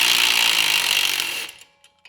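A 3/8-inch impact driver fitted with an 8mm socket working on a 2009-2017 Chevy Traverse lower control arm, giving a loud continuous buzzing rattle for about a second and a half, then stopping with a few small clicks after.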